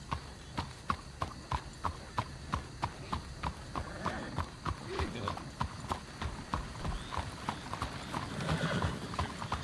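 A horse's hooves clip-clop in a steady, even rhythm of sharp repeated strikes in the Red Dead video game, continuing throughout with faint voices talking in the background.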